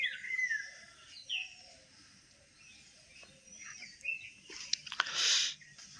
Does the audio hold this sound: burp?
no